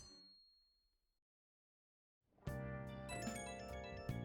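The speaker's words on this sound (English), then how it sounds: "Ring, ring, ring, phone call." Phone ringing in the video game Persona 5 Royal: after a fading tone and a moment of silence, a bright, loud ringtone jingle starts and continues to the end.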